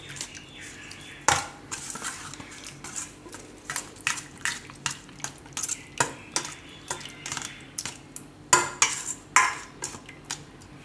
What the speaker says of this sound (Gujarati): આને મિક્સ કરી લેવું આમાં સાબુદાણા દહીંમાં